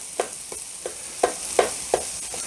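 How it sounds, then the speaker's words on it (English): Peppers sizzle and spit in a hot pan, with soft popping bursts every half second or so over a faint steady hiss. "That noise means that these peppers are frying. They're not boiling."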